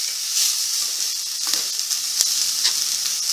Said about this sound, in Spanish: Incorporamos los pimientos en tiras, que se acitrone un poco con el ajo y la cebolla.